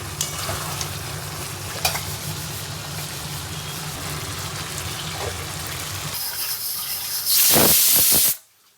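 Marinated mutton is stirred in a pot before pressure cooking, with a steady sizzle and a few scraping knocks. Near the end a loud burst of hissing steam rises and then cuts off abruptly.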